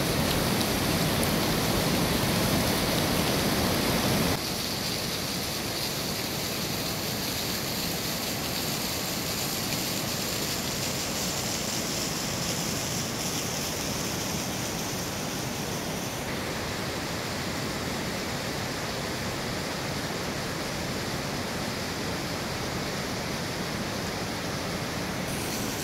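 A waterfall on the road from Jauljibi to Munsiyari in Uttarakhand roars as a dense, continuous rush of falling water, loud and steady with no pauses.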